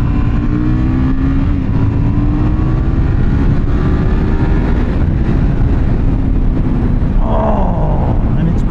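A 2024 KTM 990 Duke motorcycle's engine droning loud and steady while riding, with wind roar and slowly rising pitch as it pulls, and a short rev change near the end.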